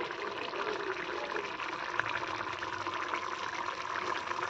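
Water poured steadily into a simmering prawn and egg curry in a cooking pot, a continuous close rushing pour with no pauses and no voices.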